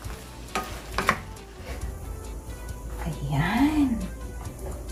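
Half-cooked vegetables stir-fried in a pan in a home kitchen, with sizzling and scraping, stirring clatter heard close under talking.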